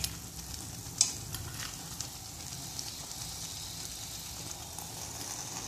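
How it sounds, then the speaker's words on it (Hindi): Cashews and raisins stirred into fenugreek seed halwa cooking in ghee in a kadhai, a continuous soft sizzle with an early metallic clink and occasional light scrapes, close by and without speech. "अभी इसके अंदर डालेंगे काजू और किशमिश"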